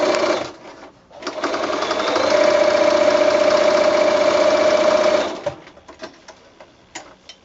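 A sewing machine runs a quarter-inch seam on a quilted mini mitt, a loud, close, steady hum that starts after a second, holds for about four seconds, then stops, followed by a few light clicks.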